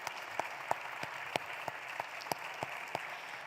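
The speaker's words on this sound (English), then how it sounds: "A final round of applause for these distinguished panelists" A final round of applause for distinguished panelists at a policy event comes as sparse, faint individual handclaps, about a dozen sharp claps scattered irregularly with quiet between them.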